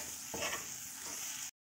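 Cooked masala for Kolkata-style ghugni frying in separated oil while being stirred, a steady close sizzle with a brief scraping stir near the start before the sound cuts off.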